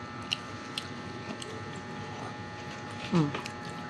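Someone eating cooked vegetables, including string beans, with rice at home, chewing and biting close to the mic in short bursts, with one louder crunchy bite near the end and faint background room noise.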